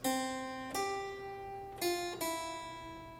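Plucked harpsichord notes ring out in a short, slow imitative melodic line from an Orlando Gibbons piece, each attack sharp and then decaying, played alone.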